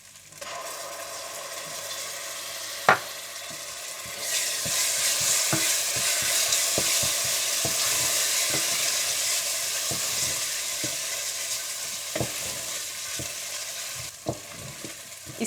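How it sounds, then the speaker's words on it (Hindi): Onions sizzle in a pan with ginger and garlic while being stirred, a steady close frying hiss punctuated by regular scraping knocks of the spoon against the pan. "और जब प्याज अच्छे से भुन जाएं तो आप इसमें अदरक लहसुन डालकर भून लें।"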